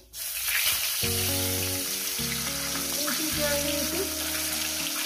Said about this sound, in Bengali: মাছগুলো আমার ভাজা হয়ে গেছে, মাছগুলো আমি তুলে নিলাম। আর এই মাছটা আমি দিয়ে দিলাম।